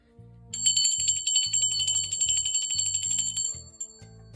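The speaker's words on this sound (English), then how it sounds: "I'm going to ring the bell for my spirit guides, guardian angels, and ancestors." A small bell rings in a fast, continuous trill for about three seconds during a tarot card reading, bright and close, over a low repeating background tone.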